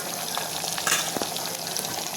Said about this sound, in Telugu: తాలింపులో ఎండుమిరపకాయలు కూడా వేసుకోవాలి